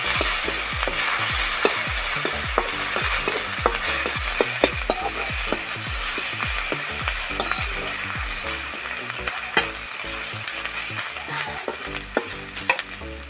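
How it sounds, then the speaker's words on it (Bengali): Bay leaf and chopped ginger fry in hot oil in a pan, giving a loud, constant close-up sizzle with occasional spoon scrapes and pops, and no talking. "দিয়ে দিচ্ছি তেজপাতা, দিয়ে দিচ্ছি আদা কুচি। আদাটা একটু ভেজে নিব ভালো করে।"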